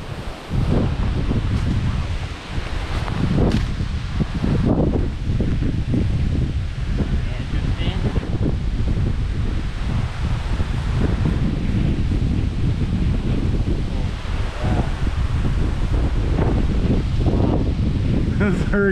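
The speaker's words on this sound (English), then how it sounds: "those hurricane winds." Strong, gusting wind roars steadily across an outdoor field during a disc golf tournament, a loud, continuous buffeting of the microphone with occasional rustling.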